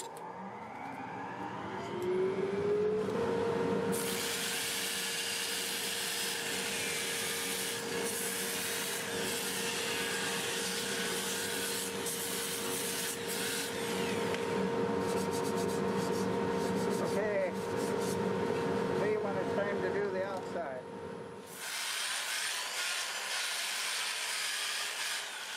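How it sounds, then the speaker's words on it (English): Dust collector roaring steadily through disc sanding of turned wood, a broad loud whoosh with a steady hum and intermittent scraping as the piece meets the disc, cutting off near the end. "I'm going to turn the dust collector on and we'll get to sanding."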